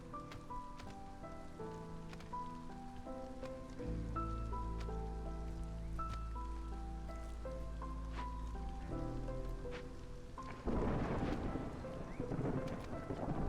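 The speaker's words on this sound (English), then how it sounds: "Storm's coming." Steady rain and low rumbling of a storm in the colony-building video game Against the Storm, a continuous wash under layered game music that swells louder near the end.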